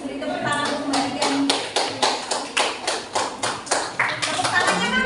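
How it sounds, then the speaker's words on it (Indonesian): Hands clap in a steady, distinct rhythm of roughly a dozen claps for a girl student during a differentiated-learning classroom lesson, close and fairly loud, with a few voices talking underneath. "Beri tepuk tangan untuk Mbak Niken"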